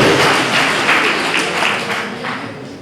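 Applause at a wedding ceremony, a burst of clapping from the gathered guests that starts loud and slowly tapers over a few seconds.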